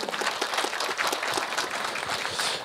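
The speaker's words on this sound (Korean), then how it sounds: "여러분 다시 한번 큰 박수 부탁드리겠습니다" Steady, dense applause fills a hall at a Nowon district forum on improving multicultural family life, a crowd clapping together continuously and fairly loudly with no pause.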